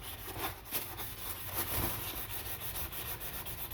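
A Guarneri violin is sanded with 600-grit sandpaper in steady, continuous rubbing strokes, close and fairly loud, with a rhythmic back-and-forth texture throughout.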